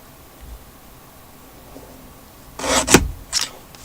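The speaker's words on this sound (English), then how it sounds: "I will get a much straighter cut with my little guillotine" A small paper guillotine slicing through a stack of book pages, heard as a loud close rasping cut with a sharp crunch at its peak, followed by a shorter scrape after a quiet lead-in.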